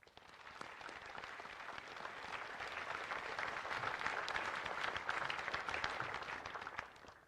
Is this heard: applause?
yes